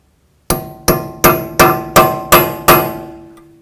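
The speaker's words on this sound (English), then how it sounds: "just take a punch and just get underneath there. Just try to bend it back" A hammer strikes a punch seven times at a steady pace, bending back the peened axle nut on the front wheel hub of a 2004–10 Toyota Sienna. Each blow rings out loud and close, metallic, with a short decay.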